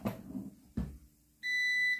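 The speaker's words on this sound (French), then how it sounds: "Voilà, ça bip" A couple of dull knocks, then a steady high electronic beep from a Silvercrest Cook'n Mix food processor starts and holds, loud and close.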